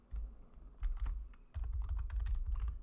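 Quick bursts of keystrokes on a computer keyboard, close and crisp, come in two short runs separated by a brief pause, with no voices.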